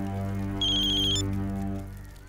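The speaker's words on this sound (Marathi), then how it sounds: "बघ कोणाचा फोन आहे बघ" A telephone ringtone plays loud and close, a steady electronic melody with a brighter high tone joining partway through, then fading slightly at the end with no talking.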